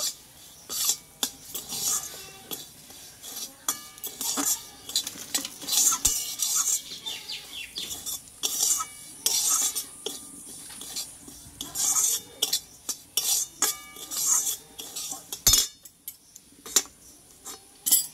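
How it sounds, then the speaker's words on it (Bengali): Semolina stirred and fried in hot oil in a pan, with a steady run of close metal-spoon scrapes and clinks against the pan, unhurried and continuous, plus a faint background hiss and no talking. "এবার সুজিটা আমি দিয়ে দেবো। এই সুজিটা একটু ভালো করে আমি ভেজে নেব।"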